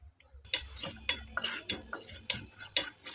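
Whole fennel, cumin, coriander and carom seeds dry roast in a pan, with a regular series of sharp ticks and light scrapes as a spoon stirs them, close and fairly quiet.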